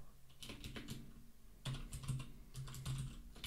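Keystrokes on a computer keyboard as a command is typed into a Linux terminal on Fedora 32, a quick run of close, crisp clicks with a few heavier thumps, near and steady, with no voices.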